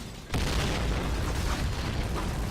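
A grenade goes off in a first-person shooter game, one sudden loud boom that then rolls on as a dense, sustained rumble filling the rest of the moment.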